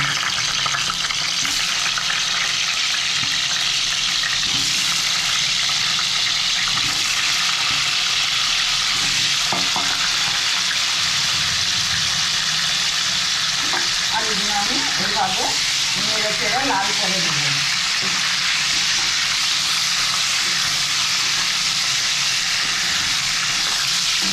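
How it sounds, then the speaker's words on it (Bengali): Potatoes frying in white oil in a wok, a constant loud hissing sizzle throughout, with a short stretch of a voice speaking under it midway. "এবার আমি আলুগুলো ভেজে নেব"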